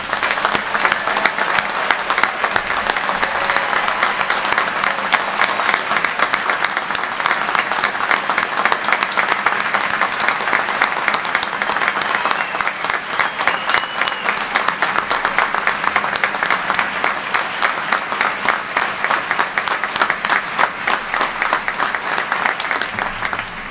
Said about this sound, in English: Please join me in giving all of our graduates a well-deserved round of applause.